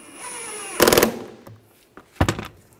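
Power tool driving screws into rear trim on a Ford Escape, with two short loud bursts of motor whine and rattling separated by a quiet pause, close and without talk.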